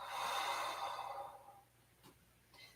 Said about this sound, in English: Deep breath in. And exhale.